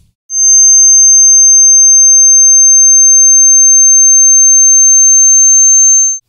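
A steady 6.3 kHz sine test tone rings high and constant for roughly six seconds, loud and unaccompanied, with a clean onset and cutoff.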